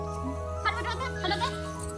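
A goat bleats a few short, near, wavering cries over a steady low hum, in a brief rural scene with voices around.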